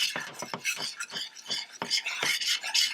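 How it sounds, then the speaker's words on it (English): Flour is stirred into melted butter in a pan for Salisbury steak gravy, producing rhythmic, close scraping and rasping strokes of a utensil against the pan bottom that repeat quickly with no talking. "We're going to add 2 tablespoons of flour. We'll give that a really nice mix."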